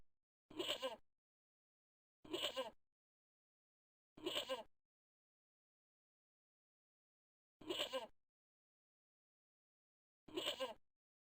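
A goat in the video game Broken Sword: The Shadow of the Templars bleats five times, each short clear call separated by silence, close and distinct.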